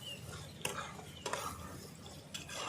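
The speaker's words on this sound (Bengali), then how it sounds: "এইভাবেই নাড়ালে নাড়াতে নাড়াতে নাড়াতে হয়ে যাবে একদম কষা কষা" Chicken gizzard curry being stirred in a pan as it cooks down thick, with a soft, steady low rumble broken by a few sharp scrapes and clinks of the spoon against the pan.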